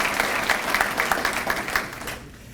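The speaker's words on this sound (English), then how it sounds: "round of applause for Shonda Chafin" Audience applause at a school awards ceremony, a full round of clapping from a crowd that stays steady and then thins out toward the end.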